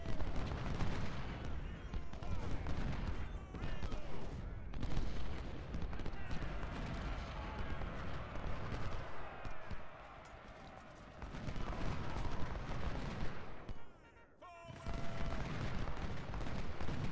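Civil War battle gunfire in the video game Ultimate General: Civil War: continuous musket volleys and crackling fusillades mixed with booming artillery, dense and sustained throughout with only a brief lull.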